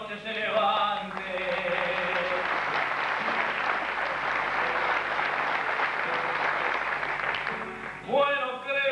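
Audience applause after a tango performance in a concert hall, a dense sustained burst of clapping that fills most of the stretch, with sung voice and accompaniment fading out at the start and returning near the end.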